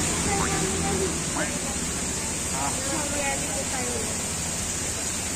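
Heavy rain pours down in a steady broadband hiss during an outing to a baptism, loud and continuous, with faint chirping or squeaking sounds and distant voices scattered through it.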